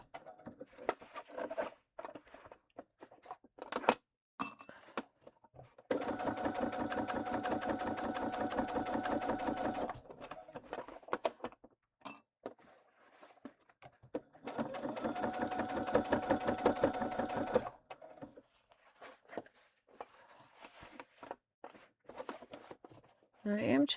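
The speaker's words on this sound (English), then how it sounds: "Just going to do this bottom seam" A sewing machine runs in two steady bursts while stitching the bottom seam of a tote bag, each lasting several seconds with a fast even rhythm. Quiet handling noises and brief talk fall between and around the runs.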